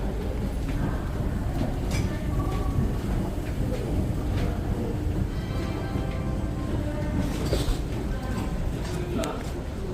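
A steady, loud rumble of a moving train from Hazur Sahib fills the whole stretch, with faint rattles and clanks over it.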